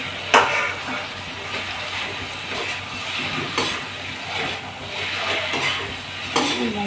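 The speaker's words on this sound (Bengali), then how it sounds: "এবার যত ভেজে রাখা আলু করলা বড়ি সব দিয়ে দেবো এটা ভালো করে ফ্রাই করে নিয়ে দিলাম" Fried potatoes, bitter gourd and lentil dumplings going back into a pan on a gas stove, a soft steady sizzle broken by scraping and stirring clatters of a utensil, fairly quiet and without talk.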